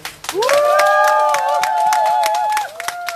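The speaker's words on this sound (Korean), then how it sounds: "한번 박수 한번 보내드릴까요?" A crowd at an outdoor candlelight rally in Seongju claps and cheers for a singer, with sustained applause over a long held sung or shouted tone, loud and close, fading after a few seconds.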